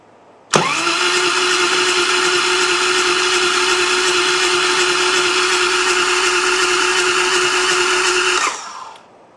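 An early Harley-Davidson Twin Cam engine cranks on its electric starter, a loud steady whine that holds for about eight seconds before cutting off.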